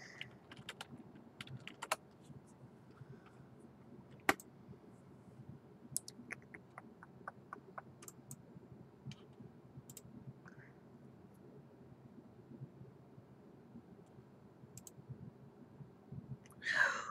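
Sparse computer keyboard typing heard nearby and quietly, scattered individual key clicks with irregular pauses over a low room hiss, plus a brief louder burst near the end.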